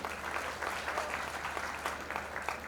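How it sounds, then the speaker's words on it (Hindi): An audience at a Hindi poetry event claps steadily and loudly in dense, even applause, with a low steady hum in the background. "एक बार जोरदार तालियों से मावेल दे"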